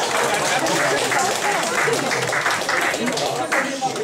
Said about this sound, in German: Das ist natürlich auch ein Applaus.